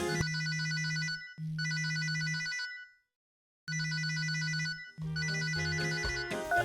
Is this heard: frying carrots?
no